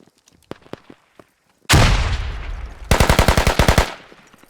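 Video game gunfire in a firefight for a fortress: scattered single shots first, then a loud sustained burst, followed by a rapid rhythmic string of automatic fire at close range.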